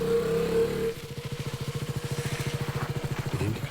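A motorcycle engine starts and then runs with a steady, rapid thumping putter, close by and moderately loud, after a brief stretch of tonal background sound.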